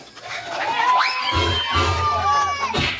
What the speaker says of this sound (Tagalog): Palakpak for number 3.